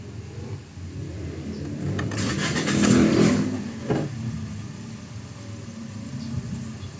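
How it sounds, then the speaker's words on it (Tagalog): A Toyota Vios car engine with 167,000 km on it, in for maintenance, cranks and catches with a brief surge around the second mark, then settles into a low, steady idle close by. "tsaka ako ngayon start itong makina."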